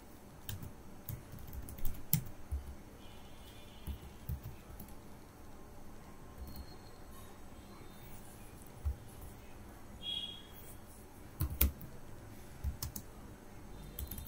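Close, uneven typing on a computer keyboard as a SQL delete statement is entered, scattered key clicks with a few louder taps, under faint background hiss.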